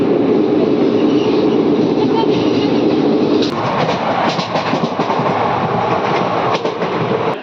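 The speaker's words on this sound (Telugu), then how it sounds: "ఆపోజిట్ బ్రిడ్జ్ మీద ట్రైన్ వెళ్తుంది." A loud train rumbles past on a nearby bridge with rhythmic clattering of wheels, the roar shifting in tone midway as cars keep rolling by.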